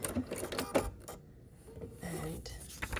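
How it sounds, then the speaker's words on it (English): A sewing machine stitches fabric and then back stitches, giving quiet, uneven bursts of mechanical whirring and clicking with brief pauses between runs. "I'm gonna start stitching, and then I'm gonna back stitch a little to secure it"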